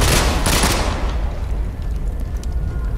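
Loud, close automatic gunfire bursts in the tactical shooter Ghost Recon Online, a dense rattling volley in the first second that trails off into lower, scattered shots and background battle noise.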